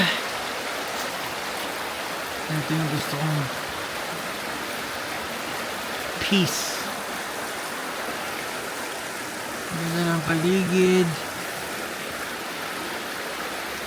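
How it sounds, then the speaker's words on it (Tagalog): A small stream flows steadily near a peaceful house among autumn-red leaves in winter, a constant broad rushing wash heard close, with a couple of people talking briefly over it. "Yung tunog ng batis"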